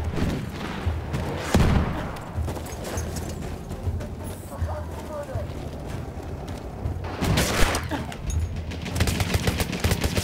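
Gunfire in the video game Battlefield 1: bursts of rapid automatic shots and sharp single cracks over a busy battlefield din, with a few heavier booms, moderately loud.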